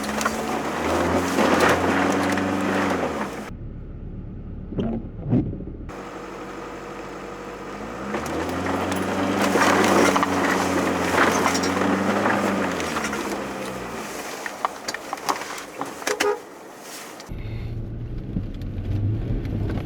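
A Land Rover Discovery D1 climbs a rough bush track with minimal wheel spin, its engine rising and falling in labouring surges with short gaps and a few sharp knocks, heard close and loud.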